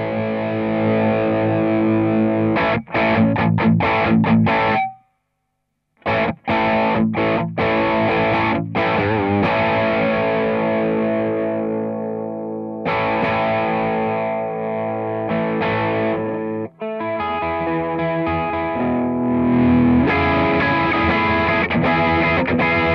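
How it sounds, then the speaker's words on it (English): A Fender Tom DeLonge Starcaster electric guitar strums sustained chords with a mild crunchy overdrive, ringing out with brief pauses and one full stop partway through. "I'll turn on just a little bit of crunch, not my full blown distortion"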